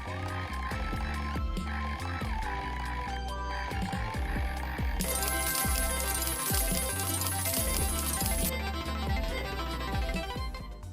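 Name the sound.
jackpot coins spilling sound effect from video game slot machine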